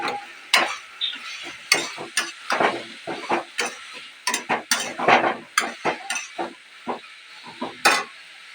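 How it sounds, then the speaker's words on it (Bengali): Small fish tipped into a pan of cooked, fried spice masala, with irregular clanks and scrapes of a utensil against the pan over a light sizzle, close and fairly loud, no talking. "ছোট মাছগুলো এর মধ্যে ঢেলে দিলাম"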